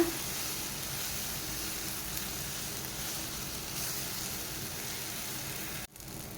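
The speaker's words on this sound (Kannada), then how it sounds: "ಈ ಎಲ್ಲ ಹಾಕಿದ ಮಸಾಲೆದು ಹಸಿ ವಾಸನೆ ಹೋಗುವ ತನಕ ಫ್ರೈ ಮಾಡ್ಕೊಳ್ಳೋಣ" Masala for squid sukka frying in a pan, a steady close sizzle with a dense crackling texture that runs evenly, then briefly cuts out near the end before resuming.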